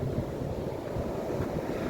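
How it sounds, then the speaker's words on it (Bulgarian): Storm waves strike the beach at Burgas in a continuous loud roar of surf, mixed with heavy wind buffeting the microphone and no speech. "но ето е вълната"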